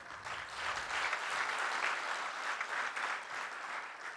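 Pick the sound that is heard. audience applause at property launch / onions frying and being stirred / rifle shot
audience applause at property launch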